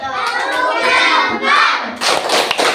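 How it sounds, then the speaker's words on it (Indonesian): Classroom of students clapping together for their groups, a dense burst of hand claps with children's voices mixed in, close and loud, with a short second round after a brief pause. "Untuk semua kelompok kita kasih tepuk tangan."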